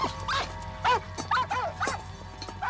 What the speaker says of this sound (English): His dog starts barking, growling.